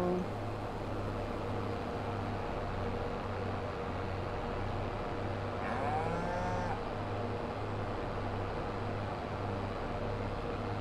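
Cattle in Farming Simulator 22 low steadily in a repeated pulsing rhythm, with one brief louder call midway over a constant farm ambience.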